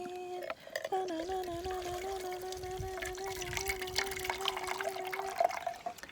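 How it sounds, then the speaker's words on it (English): Filtered spring water trickles and drips into a container at a campsite, with a slow, steady pour and a sustained tonal whine running beneath it at moderate loudness. "I am about to use my first filtered water that I got at a really cute little spring"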